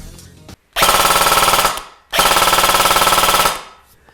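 A Dytac Invader Recon M4 airsoft rifle on an 11.1 LiPo battery fires two loud full-auto bursts, each a dense rapid buzzing rattle lasting about a second, separated by a brief pause.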